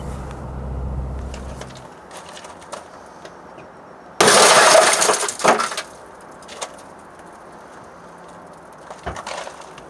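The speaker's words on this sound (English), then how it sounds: "So I'm gonna have to break the window from the outside." Resqme vehicle emergency escape tool punching out a car's tempered glass front corner window from outside: a sudden loud crunching burst of shattering glass, then scattered small tinkles and knocks, after some quieter handling sounds.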